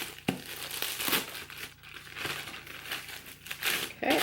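Plastic bag packaging for a Patricia Nash wristlet crinkles as it is opened, in close, irregular bursts of crackling and rustling.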